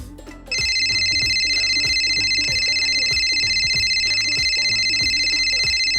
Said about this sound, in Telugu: మా అమ్మ దగ్గర నుంచి మళ్ళీ నాకు ఫోన్ వచ్చిందిరా